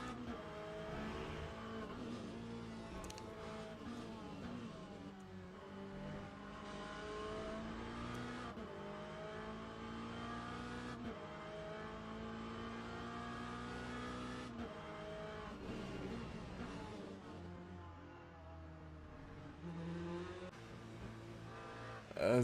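Race cars in Le Mans Ultimate, including a BMW and an LMDH prototype, lap the Imola circuit. Engines drone and whine steadily at high pitch with gear-shift dips, alongside occasional tire squeal.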